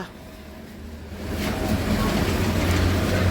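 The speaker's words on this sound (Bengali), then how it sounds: "এই গাড়ি ছেড়ে দেবে এখনই এই হচ্ছে গাড়ি" A Matribhumi Local train's low rumble swells and grows louder as it pulls away from the station, steady engine drone and rolling noise filling the background.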